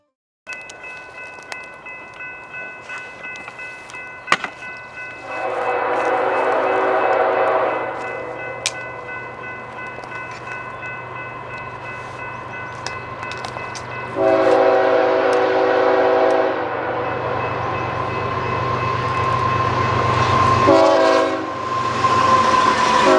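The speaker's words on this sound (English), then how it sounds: "an eastbound BNSF grain train appears into our vision and activates the crossings." An eastbound BNSF grain train passes a crossing, sounding several long, loud horn blasts in separate bursts over a steady rumble of rolling railcars, with a sharp crossing bell ding early on.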